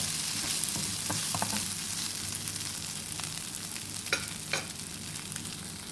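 Rice stir-fried with shrimp paste chili, stink beans and shrimp sizzles steadily in a pan, with a continuous frying hiss and a few faint scraping stirs and clinks, heard alone without talk.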